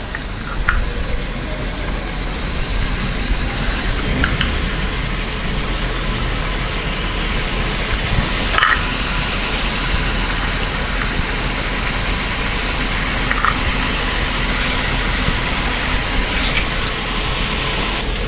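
Ribbon pakoda, a Tamil fried snack, frying in hot oil over a medium flame, a steady, loud broadband sizzle and bubbling that fills the whole stretch, with occasional faint clinks.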